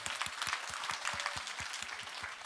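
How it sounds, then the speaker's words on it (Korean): Audience applause at a corporate promotion ceremony, a dense patter of many hands clapping with a few louder, close claps standing out in an irregular rhythm, moderately quiet overall. "박수 부탁드립니다."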